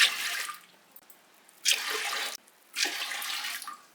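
Water pours in bursts over washed chana dal during wedding-style sambar preparation, with three splashing pours separated by short pauses, close and fairly loud with no talk.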